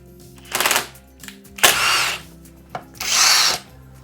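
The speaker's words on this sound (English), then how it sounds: "So much easier with a power tool." A power drill drives fasteners while a Cooler Master Caliber R2 gaming chair is assembled. It gives three close, loud whirring bursts with short pauses between them, and nobody talks.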